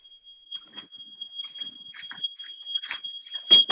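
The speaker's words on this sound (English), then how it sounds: "I think we have a fire alarm." A fire alarm gives a thin, steady high electronic tone that sounds throughout, fairly quiet, while scattered kitchen clatter and rustling build up around it.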